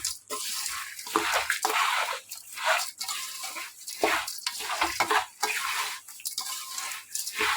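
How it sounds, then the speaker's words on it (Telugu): Roasted peanuts, roasted poha flakes and roasted gram being stirred and tossed together in a pan for a kids' snack mix, a steady rustling, scraping clatter with brief pauses, close and fairly loud with no talking. "పల్లీలు, వేయించిన అటుకులు, పుట్నాలు ఇవన్నీ వేయించుకొని బాగా కలపాలండి."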